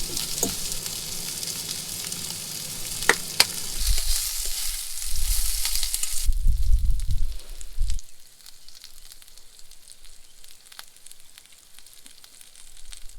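A camp breakfast of diced potatoes, peppers and onions sizzles in a pan, loud and close at first with crackling pops, then settling to a quieter, softer sizzle.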